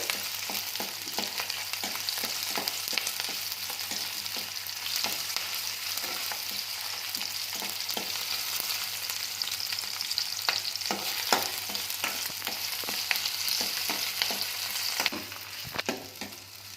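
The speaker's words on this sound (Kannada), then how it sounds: "ಟೊಮೊಟೊ ಸ್ವಲ್ಪ ಮೆತ್ತಗಾಗಬೇಕು ಚೆನ್ನಾಗಿ ಹುರ್ಕೊಳ್ಳಿ" Tomatoes stir-fried in oil in a pan for a Kannada okra (bendekayi) huli, a steady close sizzle with repeated scraping stirs throughout and no voices.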